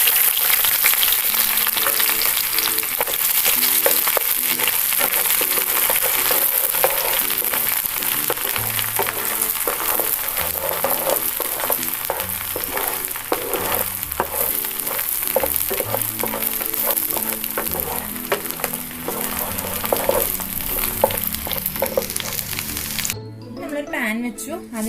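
Chopped garlic and a small piece of ginger frying in oil in a pan for a spicy Kerala raw cherry pickle, a steady close sizzle running throughout under a dense layer of other sound.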